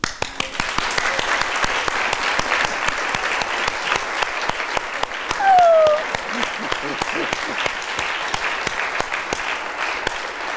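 An audience applauding, a dense, continuous roar of many hands clapping that holds steady throughout, with a brief voice or cheer rising above it midway.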